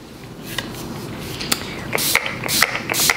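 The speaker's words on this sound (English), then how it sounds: "let me spray it." A pump spray bottle of makeup setting spray gives several short hissing bursts onto a face, a couple of faint clicks first, then rapid spritzes close up.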